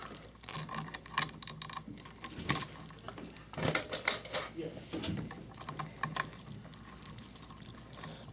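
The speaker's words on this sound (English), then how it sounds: "The wire nut cinched on there." A plastic wire nut twisted onto electrical wires while wiring an outlet, giving quiet, irregular clicking and ticking scrapes close by for several seconds.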